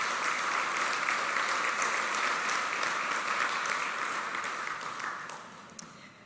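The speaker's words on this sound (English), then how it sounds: "Go ahead, you can clap." An audience at a gala fundraiser claps in a dense, steady wash of applause that tapers off toward the end, with no talk over it.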